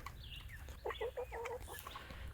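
Backyard chickens, including a Bielefelder, cluck and murmur in a short series of soft, nasal calls over steady background noise, moderately close.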